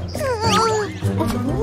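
A cartoon cat lets out a short, wavering, whiny meow that bends up and down in pitch, loud and close, over a soft musical background.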